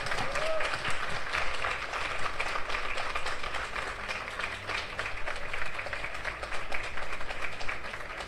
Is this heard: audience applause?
yes